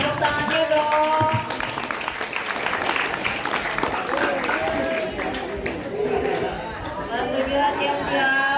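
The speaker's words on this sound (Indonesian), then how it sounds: "Tepuk tangannya dong." Audience applause and chatter at a school madihin performance contest for Hari Santri, clapping sustained and fairly loud throughout with crowd voices and talk mixed in.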